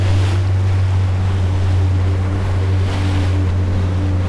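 Rough ocean swells of two to three meters surge around a fishing boat at sea. Heavy wind and a constant low engine drone fill a loud, unbroken roar of water.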